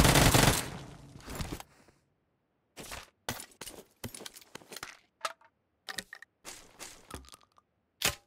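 Uzi submachine gun fire in PUBG Mobile: a long, loud opening burst, then a string of short, sharp bursts separated by brief silences, close and dry.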